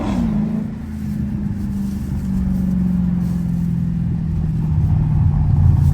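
A Dodge Hellcat engine revs hard in neutral, a loud, steady low roar with a rising note that builds toward the end, heard from inside the car with no talk.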